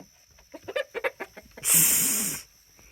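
Backyard chickens give a run of short, close clucks, then a louder, drawn-out squawk that holds for nearly a second before cutting off.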